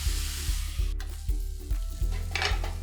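Vegetables for crispy Chinese bhel are tossed and stir-fried in a pan, with rhythmic thumping scrapes about every half second over a steady sizzle, close and loud, with no talking.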